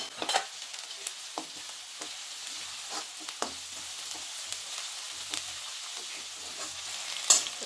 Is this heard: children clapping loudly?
no